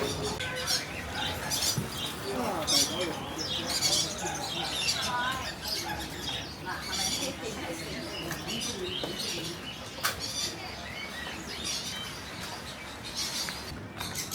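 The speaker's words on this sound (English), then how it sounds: "Budgies, parrots," Budgies, parrots and finches in a pet shop chirp and squawk in a busy, layered chatter with scattered high tweets and occasional coos, set against street-level background noise.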